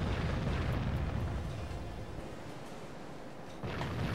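Naval guns and explosions from the warship combat video game Warship Gunner 2 form a dense, continuous rumbling roar of overlapping booms, loud throughout, dipping slightly midway before another burst swells near the end.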